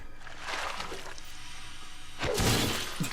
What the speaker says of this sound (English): And then immediately smashed across the counter.